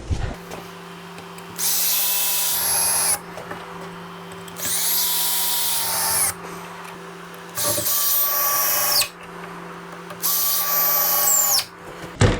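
A power drill drives 3-inch screws into wood while building a top bar hive, running in four long whining bursts separated by short pauses, loud and close over a steady low background hum.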